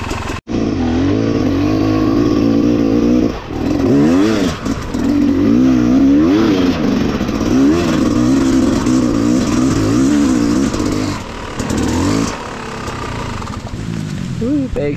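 A Yamaha YZ250X dirt bike revs loud and close on a river crossing trail in Tanay, Rizal, its engine pitch rising and falling in repeated surges, with brief drops and voices mixed in.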